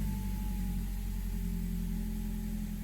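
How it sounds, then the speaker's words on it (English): A Myvi car's exhaust rumbles steadily up close, a deep, continuous idle with a low throaty drone and no voices. "this guy's exhaust is very nice"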